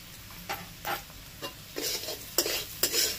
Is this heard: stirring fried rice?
yes